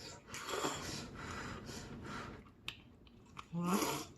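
Close, soft chewing of shepherd's purse knife-cut noodles in doenjang broth, moist rhythmic mouth sounds with a few breaths and a quiet hum, no speech.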